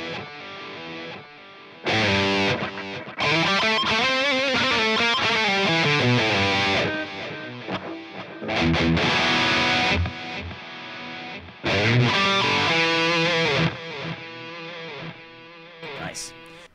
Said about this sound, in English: Pong delay sounds like this.